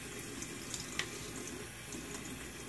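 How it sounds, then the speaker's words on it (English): Water splashes and trickles steadily from a tap into a sink during a wet shave with a Parker 98R razor, a close, continuous running sound with small splashy bursts and no talk. "splash on a little water here"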